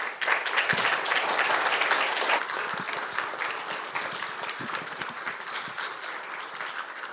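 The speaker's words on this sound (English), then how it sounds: "Join me in one more round of applause for Betsy." Sustained audience applause at a conference talk, dense clapping from a crowd that stays loud and steady throughout, tapering slightly toward the end.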